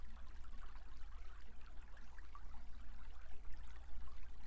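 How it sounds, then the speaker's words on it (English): A mountain stream cascading down rocks into a pool, a continuous close trickling and splashing flow with fluctuating texture, heard alone without talk. "is fed from a stream cascading down the rocks from the mountains, filling the pool."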